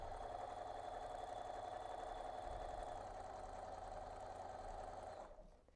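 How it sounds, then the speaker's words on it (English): A sewing machine runs at a steady, continuous whir while stitching a quilted Polish Star table runner, holding an even motor drone close up before slowing and stopping at the end. "Then we're gonna start sewing again, start at the top, and sew on line 2."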